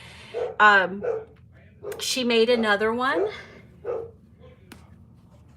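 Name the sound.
dogs barking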